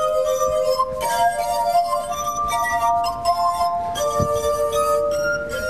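A glass harp plays a Beethoven piece, clear sustained ringing tones from rubbed glasses forming a slow melody, with notes changing every second or so and a faint clink partway through.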